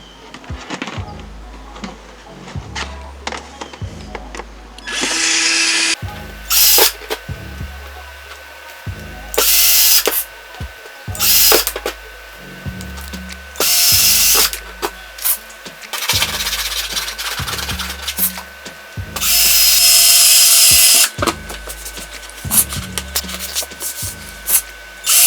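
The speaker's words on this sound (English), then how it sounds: "I am just randomly drilling the holes." A power drill bores holes at random into a homemade worm bed, with repeated loud bursts of motor whine and bit grinding separated by short pauses and thuds.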